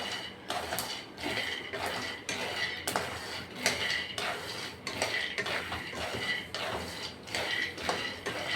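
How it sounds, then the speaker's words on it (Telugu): A spoon keeps stirring peanuts dry-roasting in a metal pan, a rapid rhythmic scrape-and-rattle repeating about twice a second, close and steady with no talking. "మాడకుండా విత్తనాలన్నీ మాడుకోకుండా ఇలా కలిపెట్టుకుంటూ వేయించుకోవాలి."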